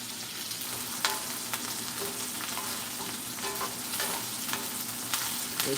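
Okra fries in oil with a constant crackling sizzle, bright and close, broken by occasional sharp pops and light scrapes as the pieces are turned.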